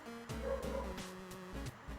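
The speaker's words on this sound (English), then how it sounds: "I'm also hearing dogs on my end." Several dogs bark and yip in short bursts, a few sharp barks over about two seconds with a faint whimpering tone, fairly near and loud, no talking.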